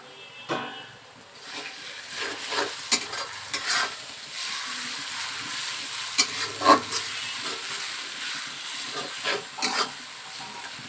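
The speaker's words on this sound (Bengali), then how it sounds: "পেঁয়াজ রসুন ভাজা হয়ে গিয়েছে" Steady sizzle of onion and garlic frying in a pan with occasional stirring clatter and scrapes, fairly close, no voices.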